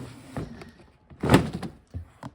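A storage drawer in an art studio that holds fabric and craft felt slides open with a dull thunk, a single close wooden knock and scrape standing out from a quiet room.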